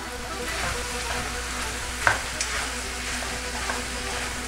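Bacon and chicken fry in a pan with a strong close sizzle, joined by scraping stir sounds and a few sharp knocks of a utensil against the pan, with no voices.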